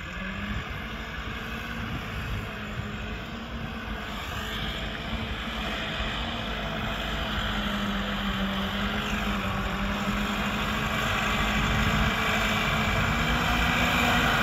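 Buraq and Millat tractors ploughing a field, their diesel engines holding a steady, continuous drone that grows slightly louder over time with no talk.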